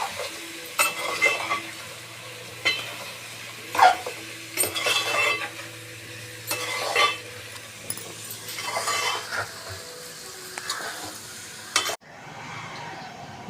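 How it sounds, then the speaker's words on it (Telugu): Pieces of mutton blood frying in a pan for a Telugu netturu curry, with steady sizzling and repeated scraping, stirring clinks of a utensil against the pan, close and alone. "ముక్కలు వేస్తాము ఫ్రై చేసుకోవటానికి."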